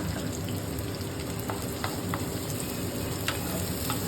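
Chopped onions sizzle over high heat in a pan while being stirred for chicken hot and sour soup, a steady close frying hiss with a few soft clicks and scrapes from the stirring.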